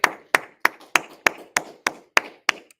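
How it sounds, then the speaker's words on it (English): Claps at a Harlem-based Israelite school history class gathering: about ten sharp, close claps in a steady, evenly spaced rhythm, with no talking. "Clap it up."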